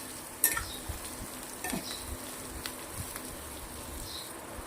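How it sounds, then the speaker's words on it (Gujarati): Capsicum and onion sauté in a pan with a steady, moderate sizzle, broken by a few soft scrapes of a spatula stirring the vegetables. "શિમલા મરચાં નાખ્યા પછી આપણે 2 મિનિટ આને પાછું સંતળાવા દેવાનું છે ડુંગળી જોડે."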